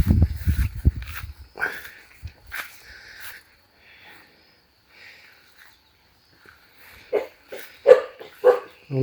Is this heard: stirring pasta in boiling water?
no